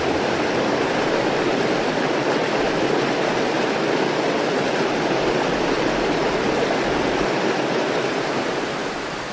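Water from overhead sprinklers rushes in a steady, loud, broadband hiss that fills the whole stretch without a break, like a heavy spray or downpour, with no voices over it.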